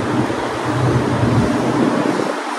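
Steady, broad rushing wind buffeting the microphone outdoors, loud and continuous with low rumbling gusts throughout.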